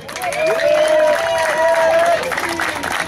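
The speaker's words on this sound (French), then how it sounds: "Et on l'applaudit trop fort." A festival crowd at a reggae event applauds loudly and continuously, dense clapping and cheering filling the space while a voice carries over the top.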